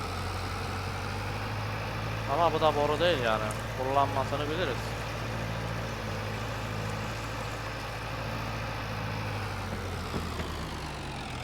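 A tractor idles steadily in a farming simulator game, a low, even engine drone running under the whole stretch while someone talks over it.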